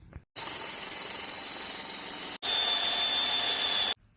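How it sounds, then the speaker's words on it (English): A power drill with a countersink bit whines steadily as it bores through the steel of an old propane tank, pausing briefly midway and then resuming with a high, sustained grinding tone. "I have a countersink drill piece, and I just have to basically drill through"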